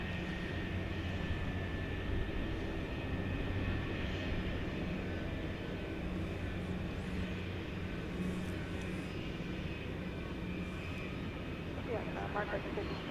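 Night at DFW Airport: a 37-year-old airliner rumbles at a distance in a continuous broad roar, with voice traffic faintly underneath.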